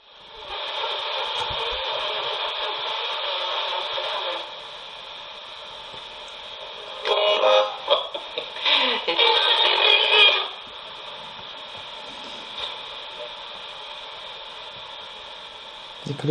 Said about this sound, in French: C'est que le bruit blanc, c'est bien aussi.